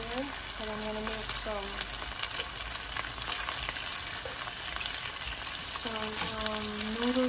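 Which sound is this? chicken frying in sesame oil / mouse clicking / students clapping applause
chicken frying in sesame oil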